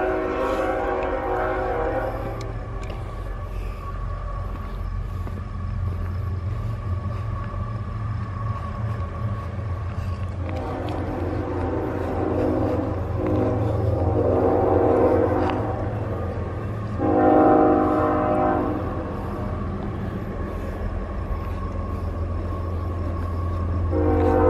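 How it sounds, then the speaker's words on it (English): A train rumbles past with a low, continuous roll of wheels and cars while its horn sounds in two long, loud blasts partway through, the whole passage steady and fairly close. "All right, there's a train."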